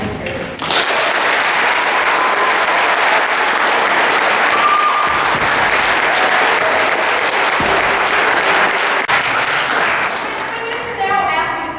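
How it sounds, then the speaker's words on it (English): Sustained applause from a school assembly crowd honoring parents, staff and administrators, loud and steady for about ten seconds before thinning out, with some voices mixed in. "I'd like a round of applause for your parents"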